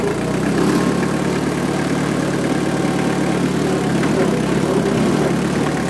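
Holder AM2 prototype engine running at a steady, loud idle, a continuous close-up mechanical drone with a dense, even chug and no pauses.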